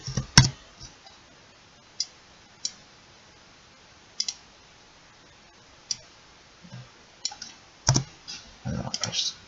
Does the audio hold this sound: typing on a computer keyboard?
yes